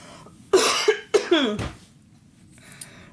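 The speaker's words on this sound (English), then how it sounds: "I have a bad cough today." A close, loud fit of coughing: several harsh coughs in quick succession, then quieter breathing and faint sounds afterward.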